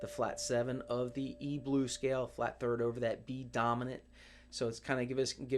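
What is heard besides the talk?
No everyday noises stand out.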